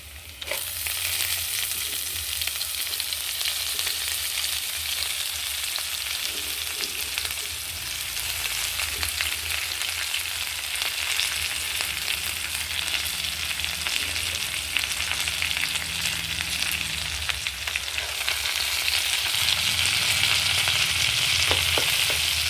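Chopped ponnaganti leaves fry in a pan with dry red chillies and garlic, giving a continuous bright sizzle with occasional stirring scrapes, steady and close, no voices.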